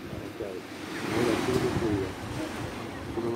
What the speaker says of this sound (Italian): No, perché arriva l'ondata e mi lavo.